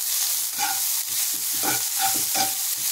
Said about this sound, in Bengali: তো এবার এগুলোকে একটু হালকা আমি ভেজে নেব তেলে